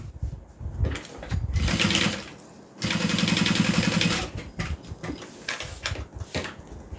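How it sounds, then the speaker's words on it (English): A sewing machine runs in bursts while stitching a fabric seam during a live sewing session, its rapid needle chatter starting and stopping, with one longer steady run in the middle. "we're gonna go ahead and sew this side down as well."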